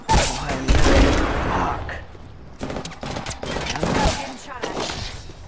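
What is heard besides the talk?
gunfire in the video game Apex Legends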